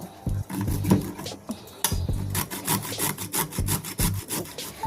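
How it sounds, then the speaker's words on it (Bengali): Carrots are hand-grated for Bengali carrot halua, a rhythmic rasping scrape with repeated strokes roughly twice per second, close and clear with no talk. "প্রত্যেক গাজরটা ঘষে নেব আমি এইভাবে গাজরটা ঘষে নিয়েছি"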